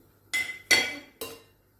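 Spoon scraping and clinking against a pot while stirring a mashed potato mixture seasoned with salt, black pepper and mixed spices: three short, close stirring strokes with quiet pauses between.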